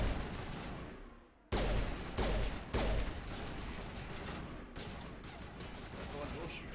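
Loud gunfire in Mass Effect Legendary Edition, bursts of rapid shots and heavy blasts in bunches with short gaps, a player talking over parts of the fight.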